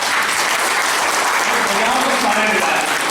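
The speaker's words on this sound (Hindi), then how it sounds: "तो ताली या तो बजाया" Audience applause at a motivational business seminar in India, a dense, steady clapping from a large crowd filling the whole few seconds at even loudness, with no talk over it.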